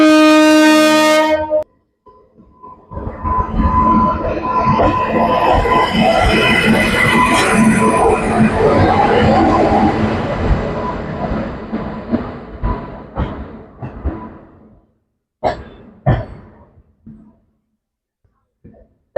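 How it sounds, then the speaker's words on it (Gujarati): A brief horn blast, then a loud, steady rolling rumble of a passenger train bound for Mumbai pulling into Keshod station, easing off into scattered clanks and knocks as it slows. "આપણી ટ્રેન છે ને વીસ મિનિટ લેટ છે તો જો આવી રહી છે"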